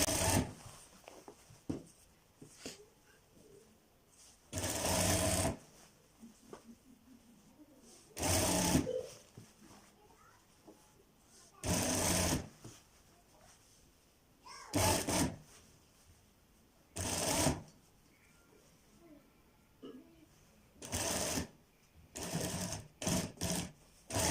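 A sewing machine stitching a kurta runs in repeated short bursts of rapid whirring, each lasting a second or two and separated by quieter pauses with faint handling noises.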